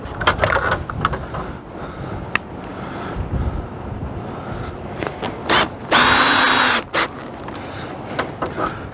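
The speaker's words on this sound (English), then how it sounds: "So I'm putting those screws right now back in, one on each end." A power drill drives screws into an LCI patio awning roller tube outdoors, with a loud, close drill whine of about a second standing out amid wind noise and clanking handling sounds.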